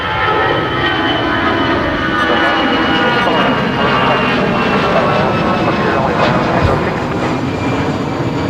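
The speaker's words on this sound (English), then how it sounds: "this is an A320 heading off to Lisbon." An Airbus A320 airliner taking off on an airport runway. A loud, steady jet engine roar with a whining tone runs close and unbroken throughout, with faint talk beneath it.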